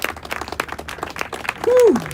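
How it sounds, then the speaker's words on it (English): A crowd at an outdoor political rally in Washington DC claps steadily in dense, fairly close applause, with a brief voice rising above it near the end. "Everyone give another big round of applause for Lee Camp."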